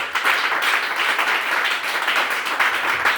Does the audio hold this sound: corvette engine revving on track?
no